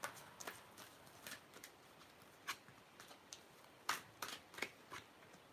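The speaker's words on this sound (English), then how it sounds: "I'm going to do a bit more shuffling" Tarot cards being shuffled in soft, irregular riffles and snaps, faint and close by, with scattered sharp bursts against a quiet background.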